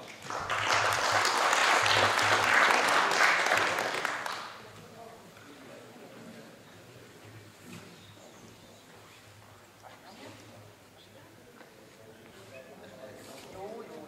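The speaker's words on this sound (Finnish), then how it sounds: "Ja aplodit herroille." Loud applause rings out at a rally prize-giving ceremony in Heinola for 2018 winners, a dense burst of clapping lasting about four seconds before fading into quieter ambient talk and murmurs.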